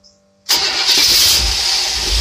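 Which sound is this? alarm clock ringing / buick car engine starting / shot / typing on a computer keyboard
buick car engine starting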